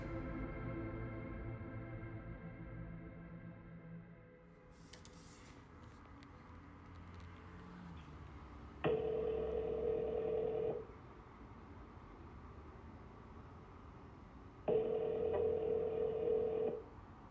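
During a recorded phone call, two long, steady telephone tones sound a few seconds apart over a faint background hum, with no one speaking.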